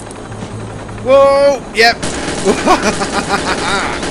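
A helicopter in the video game Soldier of Fortune II churns through a rhythmic rotor drone amid a loud whooshing blast, while a person exclaims and talks over the game.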